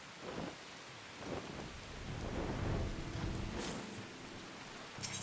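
Quiet rain with low rolling thunder in Final Fantasy XIV, soft steady patter under several distant rumbles that rise and fade, with a sharper crack at the very end.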